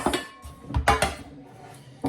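Metal 8-inch cake pans clank and clatter against each other and a counter in a home kitchen, a few close, sharp knocks spread over two seconds.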